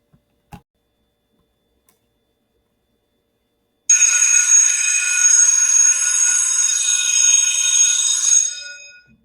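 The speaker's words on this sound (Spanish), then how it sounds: "pasamos al timbre escolar" A school bell rings alone for about five seconds as a loud, continuous high-pitched metallic ring, then fades out. Only a faint click breaks the silence before it.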